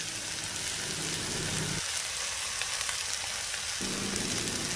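Eggs and canna flowers stir-frying in a hot pan, giving a steady, loud sizzle that runs throughout, with a brief drop in the lower crackle partway through.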